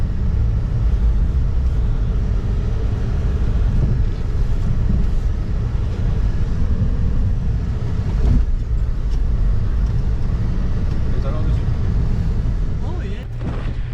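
A tracked vehicle running on three tracks through deep snow, with a loud, steady engine rumble and drone that continues throughout, close and unbroken.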